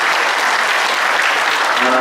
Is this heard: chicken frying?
no